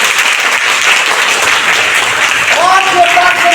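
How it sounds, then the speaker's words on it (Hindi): Loud, dense applause from a crowd at a disaster rescue and relief training session, continuous throughout, with a brief voice or whistle-like tone rising near the end. "चलिए तो ताली बजे"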